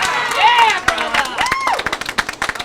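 Hometown bowling crowd erupting after a big double in a step ladder final, with a burst of cheering and whoops, then scattered hand claps and a commentator's voice carrying over the noise.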